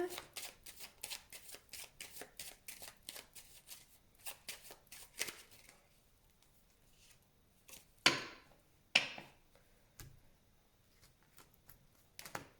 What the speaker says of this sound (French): je vais faire une coupe pour les Sagittaires avec le tarot que j'utilise pour les consultations prédictives.